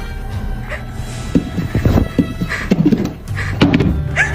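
Heavy thumping on a floor beneath a bed, several irregular dull thuds and knocks in bursts, fairly close and loud against a murky background.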